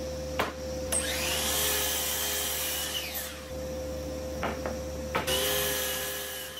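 A power drill drives screws into wooden legs of a console table built from 2x6 lumber. The whine is loud and close, with a steady hum, a few short rising and falling pitch sweeps, and sharp clicks as the drill starts and stops.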